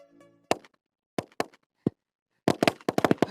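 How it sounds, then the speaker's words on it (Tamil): Firecrackers set off by a switch without flame burst in sharp, loud cracks: a few isolated pops, then a rapid cluster of bangs near the end, with a brief murmur before them. "வெறும் சுவிட்ச் ஆன் பண்ணா மட்டும் பட்டாசு எப்படி வெடிக்க வைக்கிறதுன்னு பார்க்க போறோம்."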